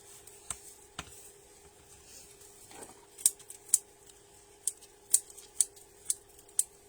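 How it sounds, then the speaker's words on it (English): Scissors trim material for a Scandi gnome crescent wreath to the crescent shape. Close, crisp snips come one at a time at first, then in a quicker run of about eight cuts over a quiet background. "I'm just trimming that to the shape of the crescent at the top"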